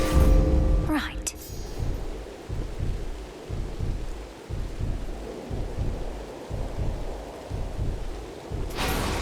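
Thunderstorm in the game Hades II: a loud rumble of thunder opens, then steady rain pours with pulsing low rolling swells throughout, and a second crack of thunder arrives near the end.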